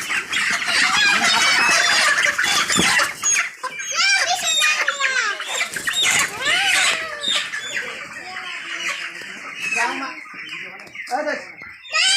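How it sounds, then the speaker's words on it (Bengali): Farm chickens being rounded up for sale cluck and squawk continuously in a loud, crowded din with occasional crowing, while people talk nearby. "মুরগিগুলোকে একখানে জড়ো করা হইতেছে"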